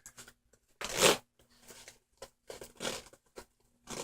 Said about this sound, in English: As you can see with the double zipper.